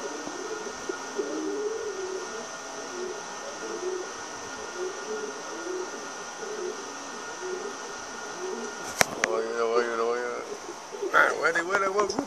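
Pigeons coo softly and steadily in the background under a constant hum, and someone speaks Spanish over them, with some clattering noises near the end.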